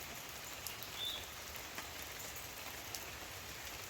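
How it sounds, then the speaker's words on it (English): Light rain falls steadily in a mountain garden, a faint, even patter with a few soft individual drops standing out, heard close and without any voices. "It's just a light rain."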